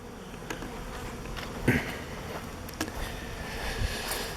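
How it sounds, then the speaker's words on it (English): Many honeybees buzz close by in front of a hive in a dense, steady drone, with a few louder individual insects passing near. "this hive has a lot of bees in front of it"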